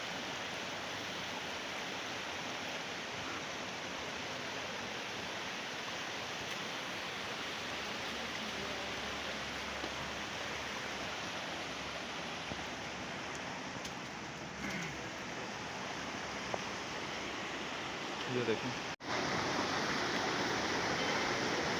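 Swat River flowing continuously as a steady broadband rush of water, near and fairly loud, unchanging throughout with only brief faint background touches.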